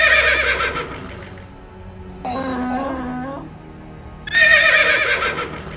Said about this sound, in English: The horse is freaking out,